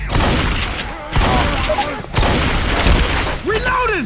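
Shotgun blasts in the zombie shooter Left 4 Dead, three loud booming shots about a second apart, each trailing into noisy game chaos with voices talking over it.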